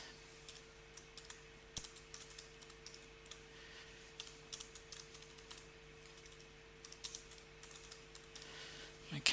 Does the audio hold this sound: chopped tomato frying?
no